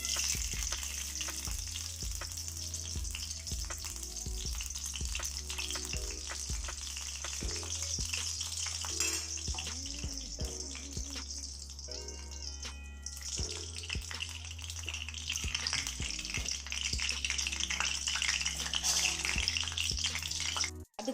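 Ghee heats and sizzles in a kadai on the stove, a steady, fairly loud frying hiss that carries on through the whole stretch with a few small clinks and stirring scrapes, no voices.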